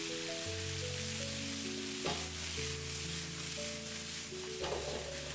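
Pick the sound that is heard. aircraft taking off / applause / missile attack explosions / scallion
scallion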